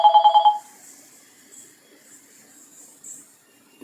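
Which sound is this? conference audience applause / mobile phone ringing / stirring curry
mobile phone ringing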